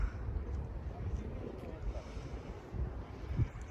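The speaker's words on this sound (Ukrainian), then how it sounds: "Дуже великий вітер." Steady low wind rumble buffets the microphone throughout, with a broad, gusty roar that rises and falls slightly.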